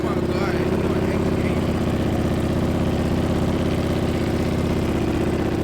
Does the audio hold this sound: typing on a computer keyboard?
no